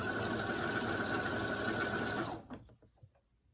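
A sewing machine whirs in a fast steady run of stitching along fabric, then stops abruptly, leaving a few faint handling clicks and rustles.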